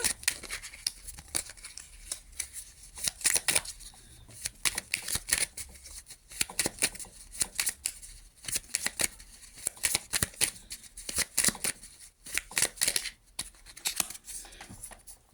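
Tarot cards are shuffled by hand in rapid bursts of crisp riffling and slapping, close and fairly quiet, with short pauses between bursts and no talking.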